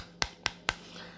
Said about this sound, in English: I'm clapping right now. I'm clapping.